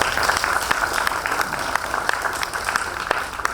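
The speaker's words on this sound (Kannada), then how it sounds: "ಇದಕ್ಕೆಲ್ಲ ನೀವು ಚಪ್ಪಾಳೆ ಬಿಡಿ." Audience applause at a Kannada-language gathering, a dense steady patter of many hands clapping throughout with scattered sharper claps standing out, no voices over it.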